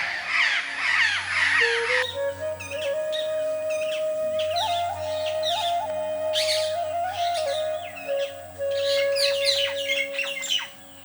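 Crows call from a giant baobab tree, with harsh caws and squawks breaking out at intervals across the whole stretch, fairly close and clear, over a steady thin tonal hum.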